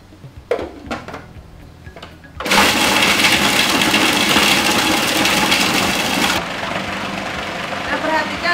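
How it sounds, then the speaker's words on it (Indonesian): Food processor blending lean, fat-free inner-thigh beef with ice cubes, a loud, dense whirring grind that starts abruptly and runs steadily for several seconds before easing to a lower hum. "Dimasukkan dulu dagingnya, daging sapi paha dalam tanpa lemak, di blender bersama es batu."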